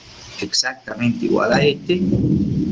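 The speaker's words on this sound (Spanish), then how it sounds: "empezó a llover aquí bien fuerte, tronando y demás" Heavy rain and rumbling thunder roll in behind a teacher's voice during an organic chemistry lesson, the storm a steady wash under the speech.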